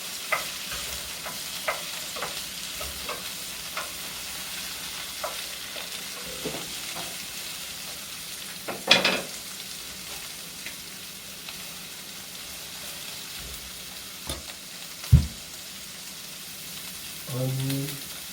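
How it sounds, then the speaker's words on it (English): Sliced yellow squash fries in a pan with a steady low sizzle, broken by scraping stirs and a couple of sharper clacks of the utensil against the pan. "Give it a stir."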